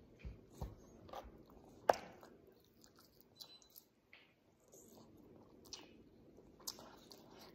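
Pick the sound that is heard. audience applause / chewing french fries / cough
chewing french fries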